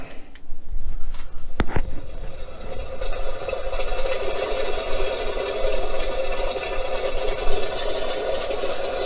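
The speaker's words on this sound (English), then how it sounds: "That's start of engine." The engine of a Mitsubishi A6M Zero fighter model starts with a few sharp clicks and a brief burst, then settles into a steady, buzzing whine with a rattle that holds loud and close to the end.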